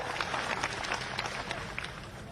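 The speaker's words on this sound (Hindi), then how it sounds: "तालियां बजा के उनका स्वागत कीजिए" A crowd at an outdoor BJP political rally applauds in a steady, dense wash of clapping lasting a couple of seconds, fairly distant and unbroken.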